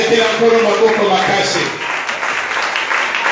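A church congregation claps and applauds in praise, a dense, steady wash of hands that stays loud for the whole stretch, with voices mixed in underneath.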